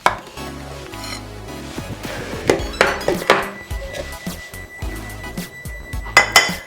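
Dry muffin ingredients are mixed with sugar in a bowl for butter cinnamon banana muffins, with irregular close clinks and knocks of a utensil against the bowl and brief scraping between them.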